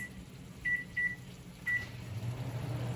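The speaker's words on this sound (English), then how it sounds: "I'm going to put this in the microwave for 15 seconds." A microwave oven heating food hums low and steady, with several short electronic beeps near the start.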